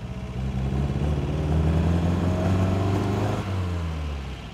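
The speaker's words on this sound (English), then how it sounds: "what this car was built for was cruising down a wonderful British B road" Engine of a classic MG MGA sports car driving along a British B road, a steady mid-pitched drone that rises and then drops with a gear change, loud and continuous.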